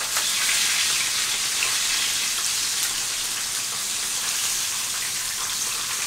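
A whole fish fries crisply in hot oil, a dense continuous sizzle and crackle, close and steady throughout with no talking.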